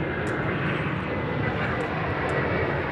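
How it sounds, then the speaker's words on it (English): A jet arriving at DFW from Los Cabos passes low overhead on approach, its engines a loud, dense, unbroken roar filling the whole span, with faint talk beneath. "the flight from Los Cabos is coming in right over their heads right now"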